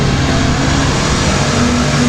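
Race cars at a dirt-track speedway roar back up to speed after a caution, a loud, dense engine drone with no break.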